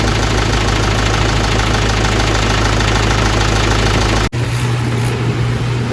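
A tractor engine idles loudly and steadily close by, with a low, constant rumble that cuts out for a moment and then resumes running.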